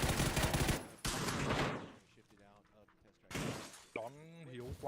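A grenade bouncing and exploding in the battle royale game PUBG during an esports watch party, heard as a sharp loud burst followed by another blast, with excited caster voices talking over and between the explosions.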